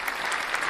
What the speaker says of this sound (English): He's like, I don't like the applause.